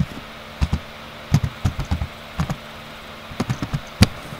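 Scattered keystrokes on a computer keyboard while an email is being written, tapping in short irregular bursts that come close and fairly soft over a quiet room hum, with no talking.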